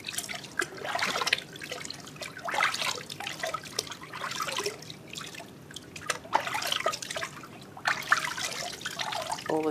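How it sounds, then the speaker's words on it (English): Water trickles and splashes steadily as shampoo is rinsed off a baby in a bath, a soft continuous pouring with small splashy bursts, fairly close and quiet, with no talking. "you can just rinse off"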